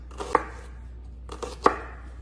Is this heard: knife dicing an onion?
yes